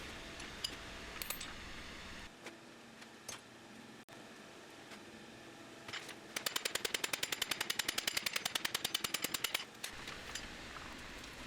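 Scattered metallic clanks and taps give way to a fast, steady burst of power hammer blows pounding hot steel while forging a butcher tool, then stop; no speech.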